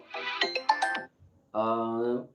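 A melodic electronic phone ringtone plays, a bright sequence of tones, a short pause, then a sustained buzzing ring, fairly close and clear.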